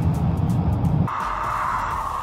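A drift car accelerates on a track: the engine's rumble gives way to a rising, sustained rev that holds steady and loud to the end.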